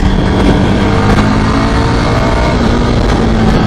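A Yezdi motorcycle's 330cc engine pulling hard in first gear on the road, a loud, close, continuous engine drone with steady rumble and wind noise throughout; no speech.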